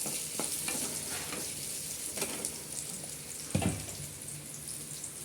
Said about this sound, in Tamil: இதோட இதை இப்படி வதக்கி விட்டுக்கிட்டே இருக்கும்